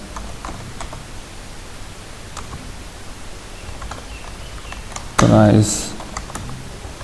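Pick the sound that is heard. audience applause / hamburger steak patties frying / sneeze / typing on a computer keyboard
typing on a computer keyboard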